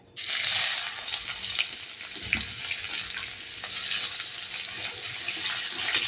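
Chopped onions hit hot oil in a pan with a sharp burst, then sizzle and hiss steadily and loudly throughout, with faint stirring scrapes in a home kitchen.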